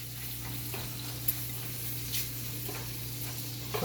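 Shrimp sit in a hot pan, frying with a soft, even sizzle broken by occasional small pops, heard fairly faintly over a low steady hum.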